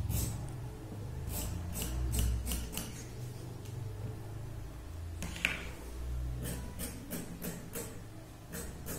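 Scissors cut through doubled saree fabric to make a blouse side strip, a series of quick crisp snips in two bursts separated by a pause, close and quiet.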